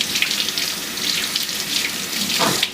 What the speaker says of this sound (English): I'm going to run them through some water.